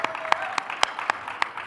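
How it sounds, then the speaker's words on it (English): A live-event audience gives a brief round of applause to a panel of DeFi speakers: a handful of sharp, scattered claps rather than a dense ovation, with a voice and a faint tone running underneath. "let's give our awesome DeFi panelists a quick round of applause"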